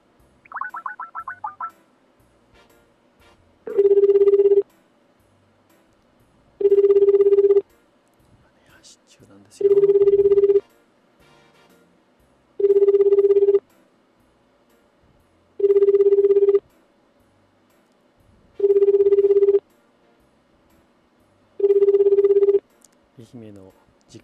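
An outgoing call to a relay event committee office in Ehime produces a ringback tone that repeats seven times at regular intervals of about three seconds, clear and close, with brief quiet gaps and faint sounds between rings.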